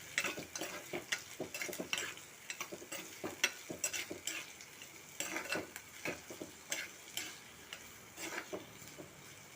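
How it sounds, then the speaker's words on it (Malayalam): Fishless curry being stirred and mixed in a pan, repeated close scrapes and light metallic clinks of a spoon over a soft sizzle, fairly quiet with no talking. "നന്നായിട്ട് ഇളക്കി മിക്സ് ചെയ്ത് കൊടുക്കാം"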